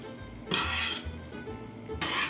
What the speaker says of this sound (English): Stir well.